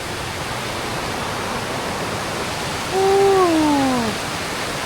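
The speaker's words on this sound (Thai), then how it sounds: "ด้านนี้ก็จะพบกับน้ำตกที่สวยงามนะครับ" Steady broadband roar of the Tad Sadao waterfall in Sai Yok, Kanchanaburi, continuous and close, with a brief animal-like cry rising over it near the end.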